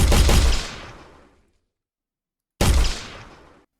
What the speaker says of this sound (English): our bullets bounce around and don't really shoot straight when you shoot them